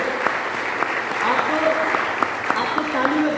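Audience applause in a seminar hall in Varanasi, a steady wash of clapping over a murmuring crowd, with a few sharper claps standing out and faint voices in the background.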